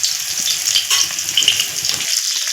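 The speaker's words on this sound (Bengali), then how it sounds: "এখন থেতো করা রসুন দিয়ে দিলাম তেলের মধ্যে।" Crushed garlic sizzles and fries in hot oil in a wok while it is stirred. The crackle is loud and close, with small pops and no voices.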